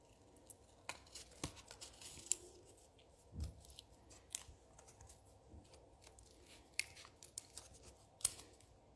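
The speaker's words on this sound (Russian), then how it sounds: "Пока третий, последний я вырезаю" Scissors snipping out small paper nail art designs, giving quiet, irregular close-up clicks and cuts with short gaps between them.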